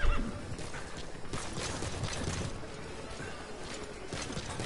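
A horse whinnies in the Metal Gear Solid video game, a loud, rough neigh that rises and sputters over several seconds, with faint hoof clatter and no speech.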